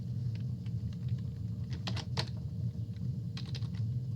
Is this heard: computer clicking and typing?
yes